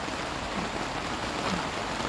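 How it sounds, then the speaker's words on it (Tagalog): Heavy storm rain pours down in a dense, unbroken hiss, loud and constant from start to finish with no voices. "malakas ang ulan ngayon dito sa sa area namin"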